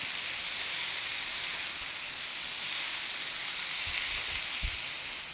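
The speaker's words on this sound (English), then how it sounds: "Let this get stir fried." Vegetables with turmeric stir frying in a pan, a steady soft sizzling hiss that runs unbroken throughout, with a few faint low knocks near the end.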